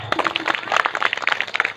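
An audience claps together at a Marathi kirtan, a brief burst of dense, fairly close applause lasting under two seconds.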